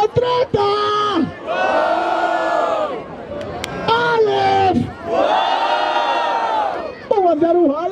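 A crowd at a Brazilian rap battle in Barueri roars and cheers in two long, loud surges, with whoops and shouts rising and falling between a host's calls.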